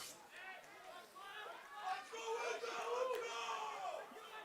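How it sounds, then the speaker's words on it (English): A small crowd at a football match between Windsor City FC and Cambridge United at Acumen Stadium, cheering and shouting vocally in the distance, the chants rising and swelling toward the middle before easing off. "Not a big crowd here, but they're getting vocal,"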